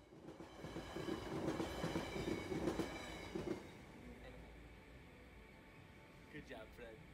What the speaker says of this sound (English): Trains are pretty cool, but as a rule, I don't like anything that's louder than me.